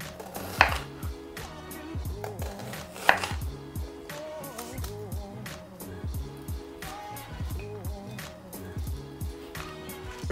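A knife chops an onion repeatedly on a cutting board in quick, steady strokes, with a couple of louder knocks and soft talking underneath.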